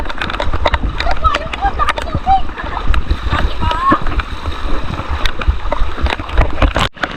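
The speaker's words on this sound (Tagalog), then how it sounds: "Ay, malakas ang agos ito doon." Strong floodwater flows through a house half filled with water, its splashing and gurgling running beneath loud, excited voices that talk and call out over it.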